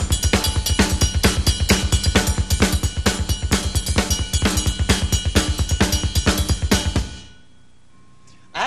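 A full drum kit beat with pounding double bass drum, snare backbeat and a mambo cowbell pattern played on a cymbal, loud and dense for about seven seconds before stopping abruptly into near silence.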